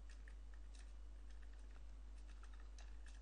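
Quiet, scattered keystrokes as PHP code is typed on a computer keyboard, soft irregular clicks over a constant low electrical hum.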